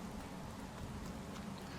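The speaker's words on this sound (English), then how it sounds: "you're standing out in the rain" Rain in the video game Secret World Legends, a faint, steady patter of raindrops with a few light drips, continuous and even, with no voices.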